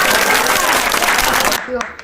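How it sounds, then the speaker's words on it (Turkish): A burst of enthusiastic clapping from a small group, loud and close, fading out after a couple of seconds into quieter room sounds. "alkışlayalım"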